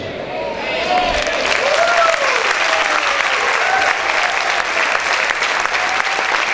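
A church congregation breaks into loud, continuous applause during a sermon, dense clapping mixed with cheers and whoops throughout.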